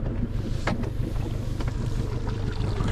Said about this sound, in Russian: Мотор заведен и греется.